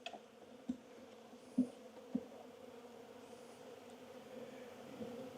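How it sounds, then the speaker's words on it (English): Robber bees leaving a beehive infested with hive beetles produce a faint, steady buzzing hum, with a few soft knocks near the start and no talking. "These are robber bees."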